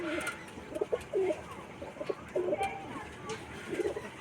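Pigeons coo in a loft in Birshibpur, Howrah, with soft repeated throaty calls at close range, heard under someone speaking throughout.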